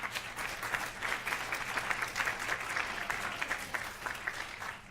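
Audience at a talk on conscious leadership breaks into sustained applause to welcome a speaker, a dense, steady patter of many hands filling the room at an even level for the whole stretch.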